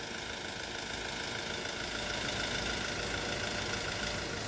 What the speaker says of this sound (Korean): 레일 압력이 높아질수록 엔진 소리가 좀 커지는 게 들리시죠?